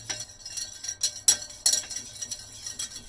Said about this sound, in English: So we want to stir it all up